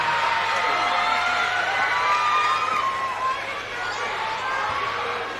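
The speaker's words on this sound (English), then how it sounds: "And Aiden Burris will go out of this game to round of applause from the stands" Spectators in the stands at a Quincy vs North Quincy high school basketball game clap and cheer with scattered whoops, a steady crowd roar that dips briefly near the end.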